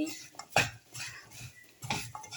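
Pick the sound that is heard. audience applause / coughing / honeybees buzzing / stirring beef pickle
stirring beef pickle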